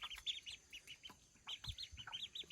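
Ducklings raised by a hen give quick bursts of high, thin peeps in clustered runs, soft and fairly close, with no talking.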